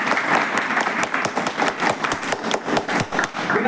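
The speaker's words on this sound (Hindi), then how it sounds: "एक बार जोरदार ताली दीजिए।" A group gathered for a mushroom-growing session applauds for a few seconds, brisk close hand claps overlapping into a dense patter.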